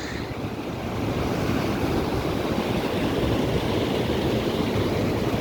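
Rushing water at Thuval waterfalls, a dense, steady roar of falling water with wind noise on the microphone, continuous and fairly loud throughout, no voices.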